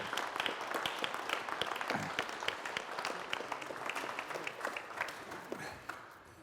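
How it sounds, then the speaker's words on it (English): An audience at a conservation lecture breaks into warm applause for a guest professor, a full round of clapping that holds steady and then tapers off near the end. "a massive round of applause for Professor Carl Jones, MBE."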